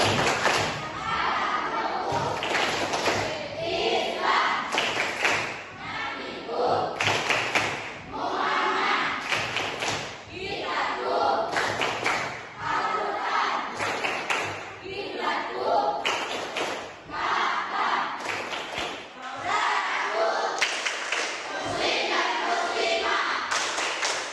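Schoolchildren in a classroom clapping the 'Tepuk Islam' rhythmic ice-breaker: repeated bursts of group claps and thumps in a patterned rhythm, mixed with chanting voices, loud and close, with short pauses between phrases.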